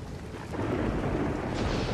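A thunderstorm from a TV show, with a heavy, continuous roar of rain and rumbling thunder that swells louder after a brief start and stays dense throughout.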